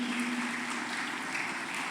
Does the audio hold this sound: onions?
no